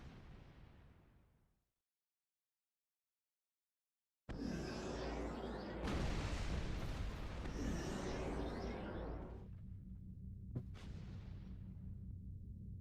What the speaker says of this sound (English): It's the fireworks